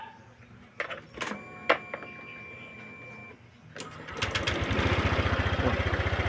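A Honda Click 150 scooter engine cranks with a few mechanical clicks, then catches and settles into a steady, loud, even idle that runs to the end, with no one talking.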